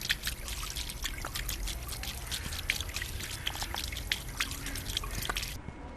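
Mountain water trickles and drips steadily from a stone fountain beside a church in Udine, Italy, close and continuous with bright splashing droplets and no talk.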